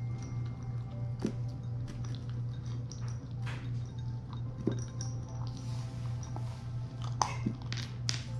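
A two-month-old Rottweiler puppy crunches on dry kibble, with small scattered clinks and crunches over a steady low hum, fairly quiet and close, with no talking.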